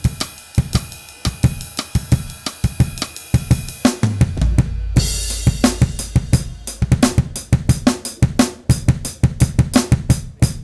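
Acoustic drum kit sounds from a Roland FA-08 workstation, based on V-Drums kits, play a steady groove of kicks, snares and hi-hats, with a cymbal wash and deep boom midway.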